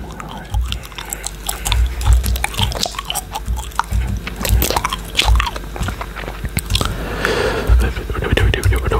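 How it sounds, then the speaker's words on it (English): Gum chewing heard up close, wet smacking and soft crunchy bites repeating irregularly, with faint whispery breath and small clicks in between during a Bullet Force mobile game session. "I'm eating a chewing gum, just a chewing gum for freshness."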